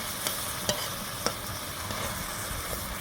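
A spatula stirs pabda fish through frying masala in a pan, producing several sharp scraping knocks over a constant soft sizzle, close and without talk.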